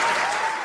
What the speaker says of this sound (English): Round of applause for y'all for that one